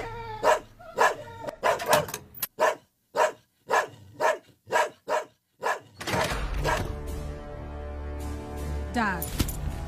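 A dog barks about ten times in a quick, sharp, evenly spaced series, loud and close, before a denser, continuous background takes over.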